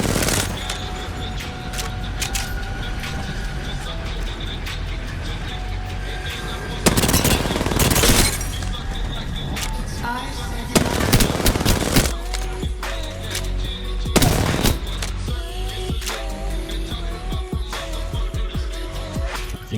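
Rapid bursts of R99 submachine gun fire in the Apex Legends video game, several sharp volleys standing out over a steady layer of game sound.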